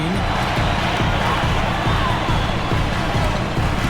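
Basketball arena crowd in NBA 2K25 during a Cavaliers at Suns game, a steady dense roar of cheering throughout with faint ball bounces underneath and commentary voices mixed in.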